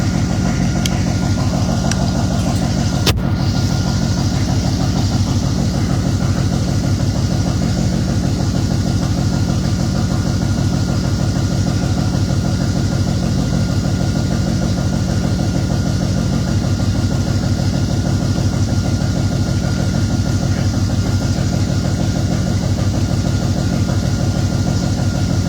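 A 1968 Pontiac engine fitted with Holley Sniper fuel injection idles steadily and loudly close by, a constant low rumble with an even pulsing rhythm throughout and a brief click near the start, no voices.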